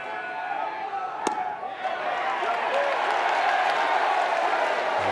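Scattered, half-hearted applause from a college baseball crowd during NC State vs Florida State, rising into a steady wash of clapping and crowd murmur after a sharp slap near the start, with commentators talking over it.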